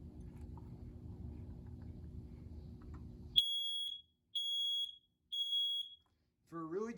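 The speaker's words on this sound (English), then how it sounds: "For a really cheap alarm, this is really loud." A cheap Home Depot smoke alarm under test sounds three loud, piercing beeps in a steady rhythm after a low background hum cuts off, followed by a voice starting to speak.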